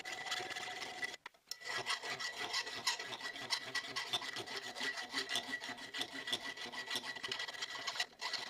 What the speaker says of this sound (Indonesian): Dan lebih halus lagi dengan bor dan kikir.